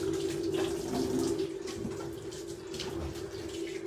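Cold water pours steadily from a kitchen tap as steel wool and a plate are washed, a constant close rushing splash with a steady hum beneath.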